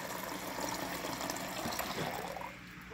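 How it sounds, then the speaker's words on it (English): Water runs from a Kenmore refrigerator dispenser into a cup, a steady full gushing flow close by that tapers off near the end with no knocking. "when I fill up my cup, I get a good flow with no hammering noise."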